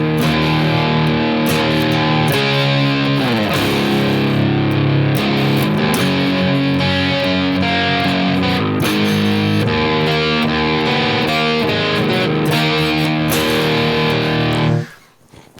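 Distorted electric guitar playing the third-verse part of a song, a steady, loud run of chords and riffs with no talking, ending abruptly near the close.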